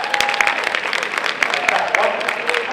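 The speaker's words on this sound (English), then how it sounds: "Would you clap if you received one of those?" A conference audience at a community college system address claps in a short burst, uneven and fairly close, with some murmured voices beneath.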